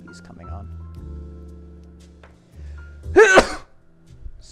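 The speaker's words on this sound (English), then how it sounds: "I've got another sneeze coming on." A single loud, close sneeze bursts out sharply after a stretch of quiet background tones, with a few faint knocks trailing behind it.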